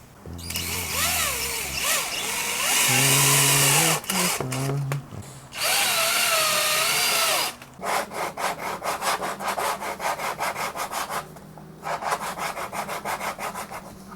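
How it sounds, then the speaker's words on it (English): Power drill driving screws through a wooden guitar neck blank into a table, with sustained whirring drill runs rising in pitch, then rapid ratcheting chatter as screws bite, loud and close with short pauses between bursts. "I'm going to screw this thing to my table."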